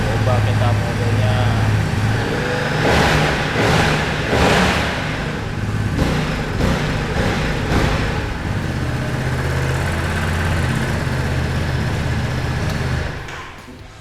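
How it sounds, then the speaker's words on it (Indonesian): A Ducati Desert X Rally motorcycle engine running steadily with a rough, throbbing low-end note and a few sharper bursts, close by, with people talking over it throughout. "Coba kita dengerin si Desert X ini. Suaranya pasti brutal, khas Ducati banget."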